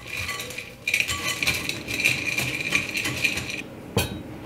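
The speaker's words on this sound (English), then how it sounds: "I'm just going to mix these chocolate chips and the rest of this crust all together" Chocolate chips and date bar crust being stirred together with a spatula in a bowl, giving a steady, close scraping and clinking rattle that runs throughout, with a sharper knock near the end.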